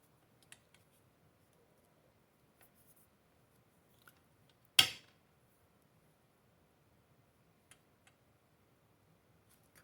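Scissors trim the little edges of a paper clip craft in a quiet room: a single sharp, close snip stands out amid near silence, with a few faint ticks and handling taps around it.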